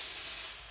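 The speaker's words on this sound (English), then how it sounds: "I like to give it a really good amount of spray, and I use canola oil cooking spray" A sustained hiss of canola oil cooking spray from an aerosol can, steady and close, tapering off slightly near the end.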